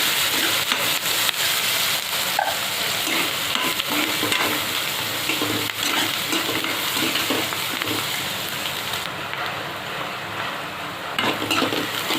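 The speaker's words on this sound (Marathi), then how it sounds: "इथे मी छोटे 2 कांदे कापून घेतले। छान परतून घ्यायचं।" Chopped onions sauté in a pan over toasted cumin, making a continuous dense sizzle with frequent scraping and stirring sounds close by, with no voices.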